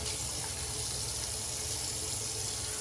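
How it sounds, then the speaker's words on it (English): Tap water runs steadily in a sink while a face is wetted before a straight-razor shave, a constant soft hiss of flow with no voices. "Let's get the face wet and we'll lather it up."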